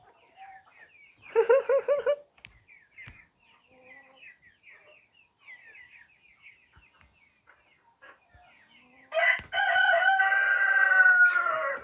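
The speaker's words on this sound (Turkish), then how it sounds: "bizim tavuklar, civcivler, piliçler, civciv kalmamış zaten hepsi piliç olmuş." Chickens and young pullets chatter and cluck softly in quick bursts, broken by two loud crowing calls nearby, one early and one sustained near the end.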